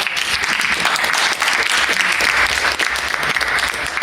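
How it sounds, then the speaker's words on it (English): An audience at an open forum and panel on the Congo crisis claps loudly and steadily in a dense, continuous wash, with faint voices beneath. "We could give them a round of applause."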